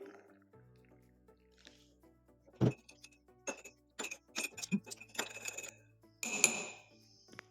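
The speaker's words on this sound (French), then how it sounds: "Je prends maintenant une cuillère de miel que je délaye dans de l'eau chaude." A spoon stirs honey into hot water in a glass, giving scattered clinks against the glass and soft liquid drips and squishes, close and fairly quiet, with no talking.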